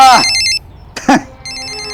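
A telephone rings in two repeated electronic trill bursts, loud and close, with a short mid-range sound between them in an indoor domestic setting.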